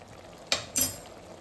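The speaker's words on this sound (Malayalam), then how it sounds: "നന്നായിട്ട് തിളച്ച് കഴിയുമ്പോൾ ഒന്ന് ഇളക്കി കൊടുത്തതിന് ശേഷം അതിൻ്റെ വെള്ളം ഒന്ന് പറ്റുന്നവരെ നിൽക്കുക" Kerala-style prawn roast simmering in a pan, a soft steady bubbling with two quick scraping stirs of a spoon against the pan, close and clear.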